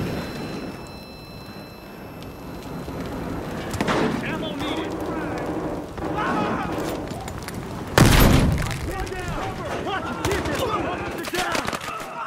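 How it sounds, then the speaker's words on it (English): Incendiary grenade in a video game, a sharp burst and crackling whoosh midway through under loud gunfire and game effects, with voices talking throughout. "Tossing incendiary, watch it!"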